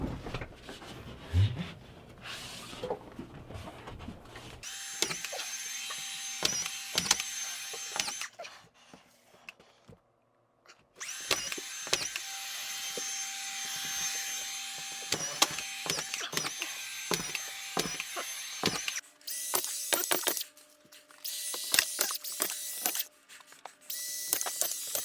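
A power screwdriver drives screws overhead during a small bathroom remodel, with repeated bursts of whirring motor and rattling bit noise, loud and close, broken by short pauses between screws.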